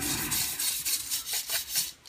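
A brass bristle brush scrubs grime off a pinball machine in quick, rasping back-and-forth strokes, close and fairly quiet, with no talking.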